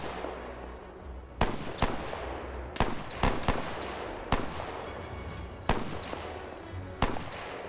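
Bren gun fire in a World War II video game: a series of sharp, cracking shots, some single and some in quick pairs, heard at middle distance against a steady background of battle noise, with no one talking.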